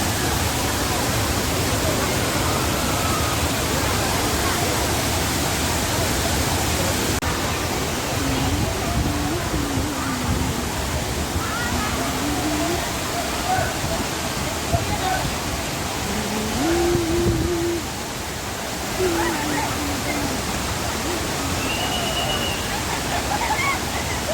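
Thirparappu waterfall in Kanyakumari roars in a dense, continuous wash of falling water, with faint voices and shouts of people occasionally rising above it.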